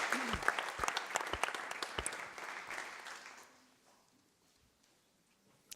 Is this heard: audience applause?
yes